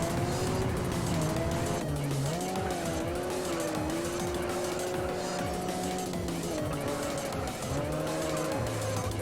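Race car in the Juiced video game, its engine revving and shifting through gears with repeated tire squeals and skids, loud and continuous under game music, with a voice talking briefly.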